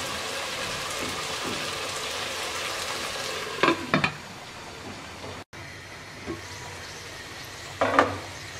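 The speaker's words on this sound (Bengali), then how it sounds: "এবার 3 মিনিট কষিয়ে নেব।" Spiced kabuli chana biryani masala sautés in a pan with a continuous soft sizzle, broken by a few sharp scraping stirs and brief clatters, close and moderately quiet with no voices.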